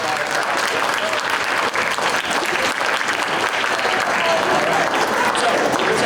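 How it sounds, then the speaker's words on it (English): A school audience at a 6th grade band and orchestra concert applauds the music staff, with dense, sustained clapping that stays loud and even throughout. Some voices are mixed in. "So I would like to give one round of applause before we start to our entire music staff."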